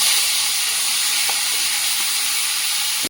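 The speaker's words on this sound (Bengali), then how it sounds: "মাছ ভাজার তেলে আলুটা ভেজে নেব।" Potato pieces fry in oil already used for frying fish, giving a loud, continuous hissing sizzle that stays even and close throughout, then cuts off abruptly at the end.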